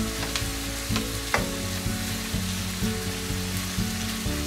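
Shrimp frying in a pan until pink, a continuous crackling sizzle up close, punctuated by regular scraping stirs and occasional clanks of a utensil.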